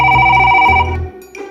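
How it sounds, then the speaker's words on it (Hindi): A telephone rings in a short-film scene, a bright tonal ring pulsing for about a second before cutting off, fairly loud and close with no talk over it. "रुक जा भाई, फोन आ रहा।"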